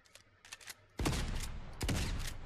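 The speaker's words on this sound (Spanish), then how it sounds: "Estoy pegando disparos con la escopeta" Two loud, close shotgun blasts in Fortnite gameplay, about a second apart, each a sharp crack with a booming tail, preceded by faint clicks and light taps, with no voices.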